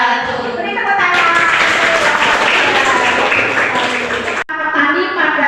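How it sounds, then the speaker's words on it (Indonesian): Loud applause from a classroom audience, dense steady clapping lasting several seconds with a brief dip near the end. "Beri tepuk tangan."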